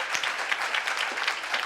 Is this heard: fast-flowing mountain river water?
no